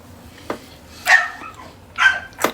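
A puppy left alone yips and whines, with a short sharp bark followed by two rising whimpering cries and another brief yip, close and clear, no talk.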